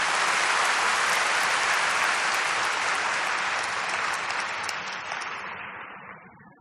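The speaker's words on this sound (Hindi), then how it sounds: "जोर से तालियां बजाओ अपने लिए।" An indoor audience claps loudly together in dense, sustained applause that gradually thins and fades out over several seconds.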